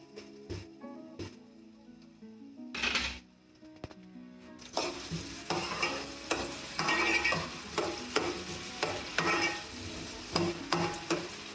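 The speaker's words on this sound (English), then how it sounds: "I'm just going to add my onion. And then I'm just going to give it a quick stir." Onion tipped into a hot frying pan for a vegetarian prawn and paneer stir fry, first quiet clatter and then a steady close sizzle broken by repeated scraping stirs.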